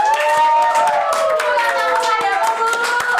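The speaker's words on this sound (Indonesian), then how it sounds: "Tepuk tangan, Bu." Audience clapping hands for a guest at a student entrepreneurship podcast event, with brief scattered claps mixed under voices and a sustained musical tone in the background.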